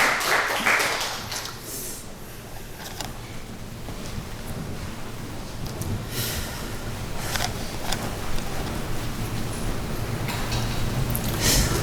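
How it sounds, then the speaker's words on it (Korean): A church congregation applauds together during a Korean Protestant worship service, a steady, fairly soft wash of clapping from a room full of people that swells and thins over about twelve seconds. "하나님께 영광의 박수를 드리겠습니다."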